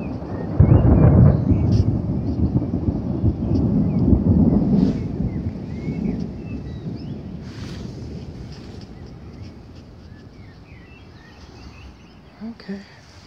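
Thunder from a passing thunderstorm rolls in as a deep, loud rumble that swells over the first few seconds, then slowly fades into a quieter, distant grumble.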